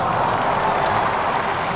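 A cricket crowd applauds a well-timed shot at an England versus India T20 match, with loud, dense, steady clapping and crowd noise that fills the short stretch without letup.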